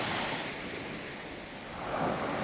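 Sea waves wash onto a beach at low tide, a steady broadband surf roar with gentle swells and some wind noise, alone with no voices.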